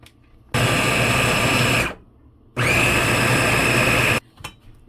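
Electric kitchen chopper whirring through chicken and coriander leaves in two loud, steady bursts of about a second and a half each, separated by a short pause.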